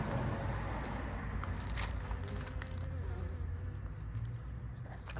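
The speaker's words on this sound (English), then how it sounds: "The bee is pollinating." Bees buzz around flowering lavender in a garden, a steady close insect drone with soft outdoor background and no talking.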